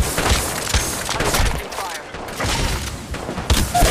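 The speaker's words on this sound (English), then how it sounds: "getting shot at" Rapid bursts of gunfire in the video game Apex Legends Mobile on a sniper and shotgun map, repeated sharp shots and volleys in quick irregular succession, with brief voice chatter mixed in.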